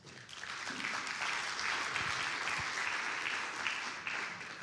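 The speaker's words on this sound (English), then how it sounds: "let's give a big round of applause for Will Charlton." Sustained applause from a seated audience at a regenerative farming think tank talk, steady and fairly distant, swelling briefly and then easing off over a few seconds.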